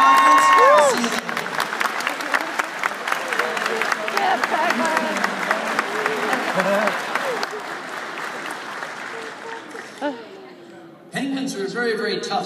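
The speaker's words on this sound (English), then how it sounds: "Let's give our African penguins a nice big round of applause." A convention crowd at the Anthrocon 2014 opening ceremonies applauds steadily, with some cheering, for several seconds; an amplified voice talks over the clapping throughout.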